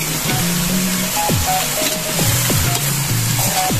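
Beef paklay, a Visayan dish, sizzles loudly in a pan as soy sauce and vinegar are stirred in. Continuous hissing frying noise runs throughout, with a melodic tone playing faintly underneath and no talking.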